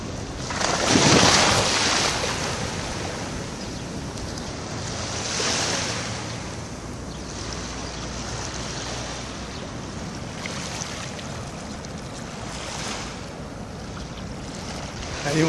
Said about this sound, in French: Allez, je suis la ligne des vagues.